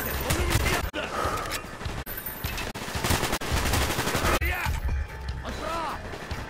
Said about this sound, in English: Just turn the corner and they all just start shooting.